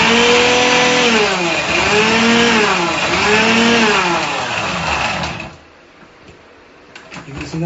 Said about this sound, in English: Just mix it up, and then we will grind it really well.